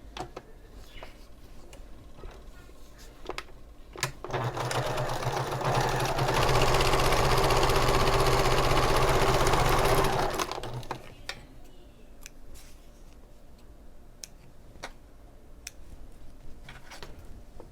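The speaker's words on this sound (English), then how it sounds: "now across the top, I like to top stitch" A sewing machine top-stitches across a handbag, starting with a burst of rapid, steady stitching that rises to a loud, sustained run for several seconds. Sparse clicks and handling taps come before and after, and there is no talk.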